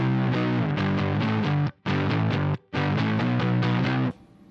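An electric guitar runs through a DIY Good Boy Fuzz pedal with the guitar volume rolled back slightly for a lo-fi distortion. Loud, rhythmic strummed chords play alone, break off twice briefly, and end abruptly in a faint hiss.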